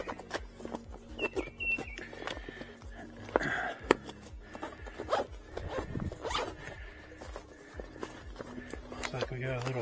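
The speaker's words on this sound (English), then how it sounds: "Open this little bag up here." The zipper on a small scooter bag is pulled open in several quick, raspy zips up close, among handling rustles and soft bumps, with someone speaking briefly.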